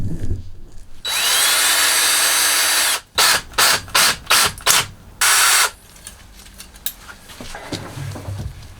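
A power drill spins a hose clamp during front CV axle work on a Toyota Tacoma, first in one long loud whir, then in several short bursts, before falling to quieter handling noise.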